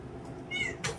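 A cat meows to be let in indoors, giving one short, clear, nearby meow followed by a brief knock or rustle, with no talking.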